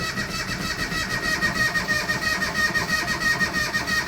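An old engine cranks with the choke set on a cold start, a continuous steady mechanical churning that stays loud and even throughout without clearly catching.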